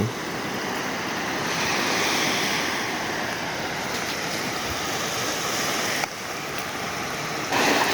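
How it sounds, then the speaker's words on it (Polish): Sea waves wash onto a beach at Gili Meno, a continuous broadband surf roar with gentle swells, some wind buffeting the microphone and no voices. "stoję właśnie przy morzu"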